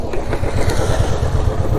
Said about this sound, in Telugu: బైక్స్ వెళ్ళిపోతాయి కదా.